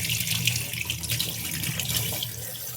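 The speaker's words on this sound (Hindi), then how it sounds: "तो चलो फटाफट से बच्चों की बोतल है ये धो लेते हैं" Baby bottles being washed under a running kitchen tap: a steady, close hiss of flowing water splashing into the sink for the whole stretch, with no talk.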